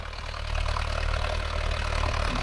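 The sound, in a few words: tractor engine running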